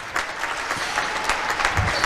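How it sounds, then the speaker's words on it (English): Gym crowd applauding senior basketball players and their families at a high school boys game, loud close clapping with scattered sharp claps over a short burst. "Let's give a round of applause to each of our seniors and their families."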